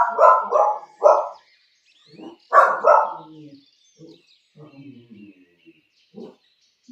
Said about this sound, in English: The doggies are on protective duty.